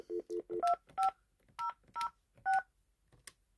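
Touch-tone DTMF keypad tones dial a FreeStar AllStar ham radio node over a VoIP link: about eight short, clear beeps in an uneven rhythm, the first three quick and lower, then single tones spaced apart, heard alone.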